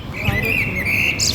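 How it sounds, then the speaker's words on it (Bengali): Birds chirp and tweet in a park, a clear, high, wavering call running across the moment with light background noise and faint voices underneath. "পাখি কিচিরমিচির করতেছে"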